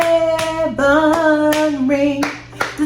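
Sharp hand claps land at a regular beat, roughly every half second, over a sung melody with a sustained voice carrying the tune.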